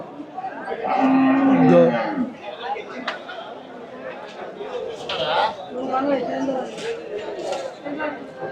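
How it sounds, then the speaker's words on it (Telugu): A loud, drawn-out low moo from nearby cows and buffaloes, followed by more distant lowing amid a crowd chattering in the background. "ఇవన్నీ ఆవులు గేదెలే వచ్చాయి ఎక్కువ."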